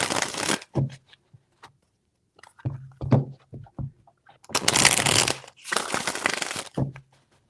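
Tarot cards are shuffled in several bursts of crisp riffling and slapping, loud and close, with short pauses between the bursts and no talk.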